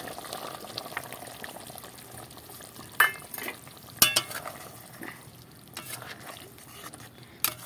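Pangas fish curry simmers in a pan as thinned tomato ketchup goes in, giving a soft steady bubbling with a few sharp clinks and stirring knocks, near and moderately loud, with no voices.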